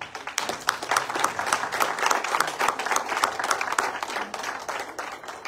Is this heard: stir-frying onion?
no